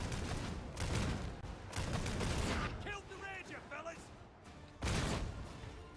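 Bursts of gunfire in the video game Warhammer 40,000: Darktide, with loud volleys near the start and again near the end, and someone talking in between.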